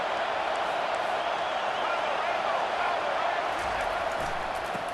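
Steady roar of a loud stadium crowd at an Arkansas versus Alabama college football game on first and goal, a dense continuous wash of noise with a commentator's voice over it.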